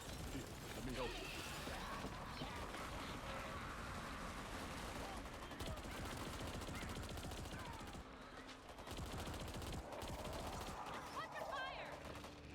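Video game gunfire rattles in dense, continuous bursts of shots and mechanical clatter, loud and close throughout, with voices talking over the combat.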